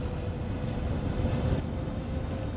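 Steady low rumble of an electric TGV train on a high-speed line in Train Sim World 6, broadband and continuous with a faint tonal whine, no talk.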